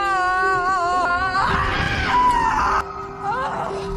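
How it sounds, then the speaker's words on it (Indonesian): Several people scream loudly and at length outdoors near a rocky mountain, trying to raise an echo. The strained, overlapping cries are sustained and close, with no spoken words. "Harry pun mencoba mengajak mereka untuk berteriak sekeras-kerasnya, karena suara mereka pasti akan menimbulkan gema."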